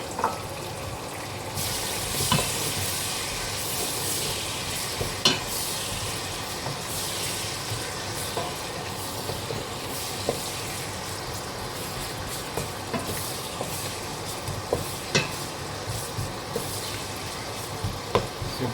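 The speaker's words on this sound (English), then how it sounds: "Now we're just gonna add our onions" Onions frying in oil in a pan for a king prawn curry, a steady close sizzle with occasional stirring clicks throughout, no talking.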